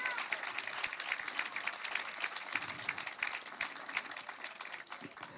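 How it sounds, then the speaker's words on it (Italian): Warm applause from an audience at an Italian awards ceremony, a dense steady patter of many hands clapping close by throughout, with no voices over it. "come vedi c'è un applauso molto ma molto affettuoso nei tuoi confronti"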